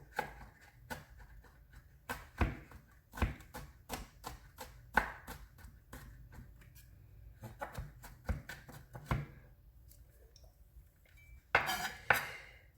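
A knife chops garlic finely on a cutting board while cooking lobster, giving a run of sharp, irregular taps close by, some quick and clustered and others spaced out, with a louder clatter near the end and no talking.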